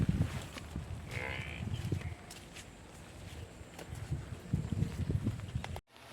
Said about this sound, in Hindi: और सारी भैंसें इस जाल के नीचे बंध रही हैं।